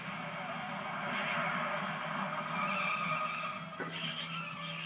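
A car in the Super Road Blaster game on the SNES brakes and skids in a sustained, hissing tire squeal that holds for several seconds at moderate loudness and ends in a brief sharp crack.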